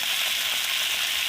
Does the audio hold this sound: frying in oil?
yes